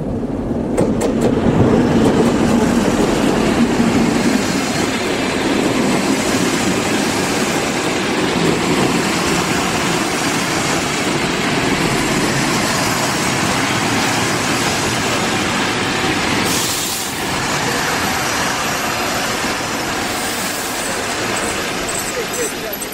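A train rumbles past a station platform with a broad, continuous roar that holds for a long stretch, with people talking nearby over the noise.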